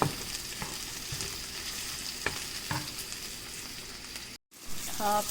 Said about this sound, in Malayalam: എന്നിട്ട് നല്ലോണം ഇളക്കി കൊടുക്കുക